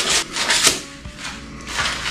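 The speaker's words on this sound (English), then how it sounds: "take the sandpaper, clean up our sides a little bit" Sandpaper rubbing across the cut edges of a PVC pipe piece, a close, steady rasping scrape in repeated strokes with short gaps between passes.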